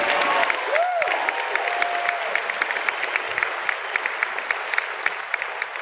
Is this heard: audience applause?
yes